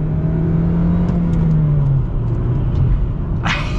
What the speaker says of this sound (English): Definitely got some torque steer there when I went full throttle there in first gear.